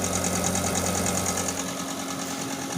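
Electric heater running at 1 kW on mains power, giving a steady close hum with a fan-like whir and faint rhythmic vibration, constant throughout; no talking.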